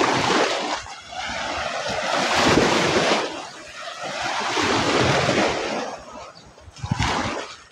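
Ocean waves along the seashore at Balatan, Camarines Sur, with loud near surf surging and washing in repeated swells, buffeted by wind noise on the microphone.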